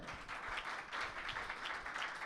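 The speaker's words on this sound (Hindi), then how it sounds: "यीशु मसीह के लिए तालियां बजाएं" A church congregation at a Sunday service claps together, a faint but steady wash of applause with rhythmic pulses, distant and alone.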